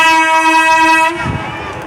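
A Cargo Slovakia shunting locomotive sounds a loud, steady horn tone that cuts off after about a second. Rumbling engine and rail noise continue close by afterward.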